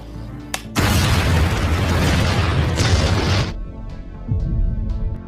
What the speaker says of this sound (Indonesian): Lalu tiba-tiba mesin kopi meledak dan menewaskan kedua teman Rita.